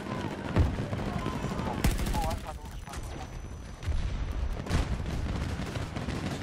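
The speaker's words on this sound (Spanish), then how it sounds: "Me está disparando." Gunfire in a Battlefield 2042 match, with sharp shots and bursts in a dense, continuous battle mix over roughly six seconds, some louder reports standing out, while players laugh and talk over it.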